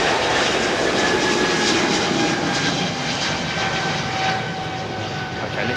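Swiss airliner, flight 220, at London Heathrow, a loud broad jet engine roar close by, sustained and slowly fading over a few seconds, with no talk.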